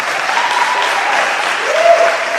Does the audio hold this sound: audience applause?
yes